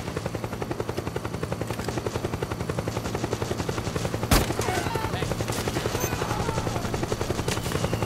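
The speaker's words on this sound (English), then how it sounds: "Another helicopter." A helicopter's rotor in Metal Gear Solid 4 on PS3 chops in a fast, steady rhythm, close and loud, with a single sharp crack midway through.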